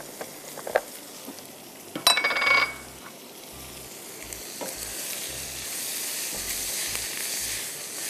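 Onions fry in cooking oil with a steady hissing sizzle that builds louder toward the end, punctuated early by metallic clinks and scrapes of a spoon against the pan.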